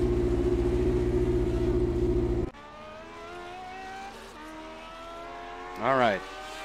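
A Lotus 79 vintage Formula 1 car at Silverstone in a sim racing game: a loud, buzzing engine drone cuts off sharply, then a quieter idle rises in pitch before a short burst of revs near the end, with talking over it.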